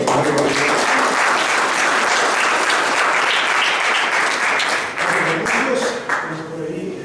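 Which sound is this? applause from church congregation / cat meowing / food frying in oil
applause from church congregation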